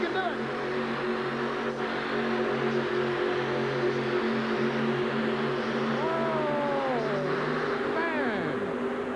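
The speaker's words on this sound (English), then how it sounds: "This is a supercharged Keith Black Hemi." A supercharged Keith Black Hemi engine in a modified truck roars steadily at a tractor pull, heard at a distance beneath an announcer's commentary, its pitch rising and falling near the end.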